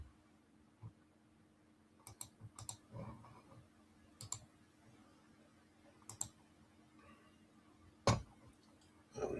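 Scattered computer keyboard clicks and taps sound close but faint in a quiet room, a few short bursts of keystrokes separated by pauses, ending with one sharper click.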